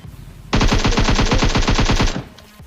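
A rapid automatic weapon fires in a battle royale video game, one loud close burst of about twenty evenly spaced shots lasting under two seconds, then quieter game noise.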